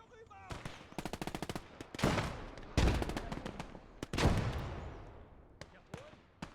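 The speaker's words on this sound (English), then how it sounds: "Once MG42 starts firing, there is nothing that can match it" An MG42 machine gun fires in a Stalingrad player-versus-player match of the WWII game Gates of Hell: rapid ripping bursts close by, broken by heavy single blasts and short pauses, with scattered distant shots between.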